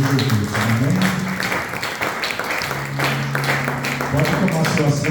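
A church congregation applauds in praise of Jesus during a family worship service, with steady, dense clapping throughout under a prominent preacher's voice speaking over it.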